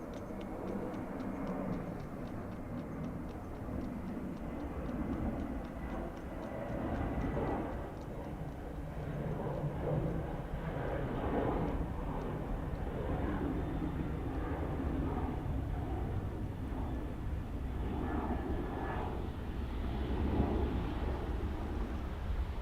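An Airbus A330 airliner at Dublin Airport, a distant sustained jet roar rumbling low and steady for over twenty seconds, mixed with wind buffeting on the microphone, no clear talk over it.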